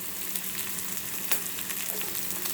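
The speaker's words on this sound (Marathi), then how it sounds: "कांदा थोडा परतत आला त्याच्यामध्ये हळद टाकायची." Onion frying in a pan as turmeric and red chili powder go in, a steady close sizzle with light stirring scrapes throughout and no talking.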